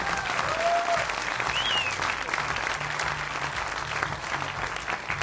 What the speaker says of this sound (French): je vous demandais d'applaudir Emeline Detilleux